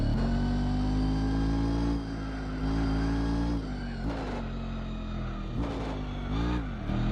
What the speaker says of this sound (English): The cars which got new engine sound sound so nice.